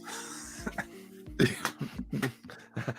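Several short, harsh coughs and throat-clearing bursts in irregular succession, close and fairly loud, with no talking.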